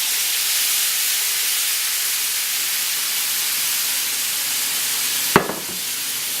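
A steady loud hiss and sizzle from a hot pan for chicken Marsala, then a sharp burst as Marsala wine hits the pan, followed by a fading crackle.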